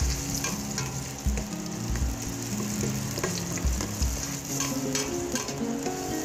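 Onion and ginger frying in a pan for sinigang na ulo ng salmon, a steady close sizzle with stirring scrapes and a few clatters throughout.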